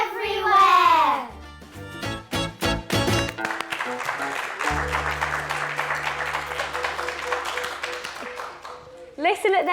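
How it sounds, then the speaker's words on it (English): Children clapping softly in a burst of muted, irregular hand claps, with kids' voices and an adult talking over and around the applause. "Listen at their muted clapping"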